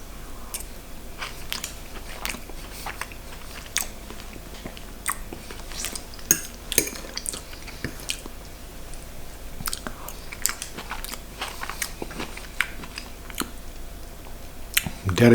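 Spanish codfish in tomato and paprika sauce being bitten and chewed, with soft wet chewing and occasional clicks of cutlery, close up over a steady quiet background and no talk.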